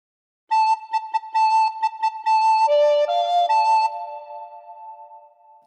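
A recorder plays a phrase of What Shall We Do With the Drunken Sailor: a quick run of short repeated notes on one pitch, then a few lower notes, ending on a held tone that fades out. The playing is close and solo.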